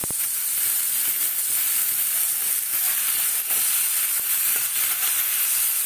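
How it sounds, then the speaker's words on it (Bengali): Black pepper and whole cumin dry-frying in a pan give a constant close hiss and crackle, with faint scattered ticks of stirring throughout. "মশলাটা ভেজে তারপরে ঠান্ডা করবো"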